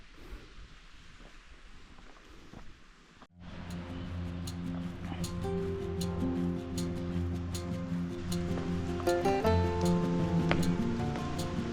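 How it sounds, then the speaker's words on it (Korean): A mountain valley stream rushes steadily behind a lodge near Gucheondong on Deogyusan; the water noise is clear and unbroken for about three seconds, then music cuts in loudly and masks it. "숙소 뒤편으로는 계곡물이 하루 종일 흐르고 있습니다."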